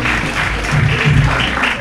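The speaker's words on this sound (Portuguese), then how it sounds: "Uma salva de palmas para o Rui Higui." Audience applause for a comedian at a live comedy show, loud and close, a thick continuous burst of many hands clapping, brief.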